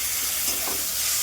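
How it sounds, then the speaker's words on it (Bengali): Food frying in a pan over high heat, a steady close sizzle and hiss with faint stirring, no voices. "একটু আঁচটা বেশি করে ভেজে নিচ্ছি, তাহলে কাঁচা গন্ধটা চলে যাবে।"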